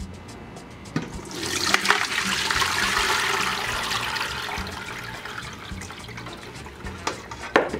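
Water with cooked shrimp that were chilled in ice water drains through a strainer into a sink, a rushing, splashing pour that builds and then trails off with drips.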